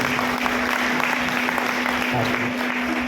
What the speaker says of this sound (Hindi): मैडम के लिए एक बार जोर से तालियां बजाइए।